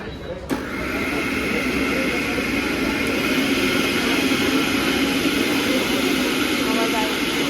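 A kitchen mixer grinder in a new home starts up suddenly and runs with a loud, steady whirring roar that carries on without pause.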